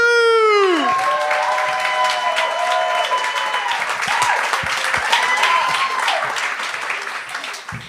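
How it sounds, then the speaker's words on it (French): A comedy club crowd at a gong show greets a comedian with a thunderous round of applause and some cheering, dense clapping continuing for several seconds after a short, fading tonal sting at the start. "un tonnerre d'applaudissements pour Mathieu Dastou!"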